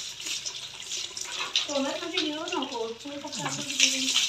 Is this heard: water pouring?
yes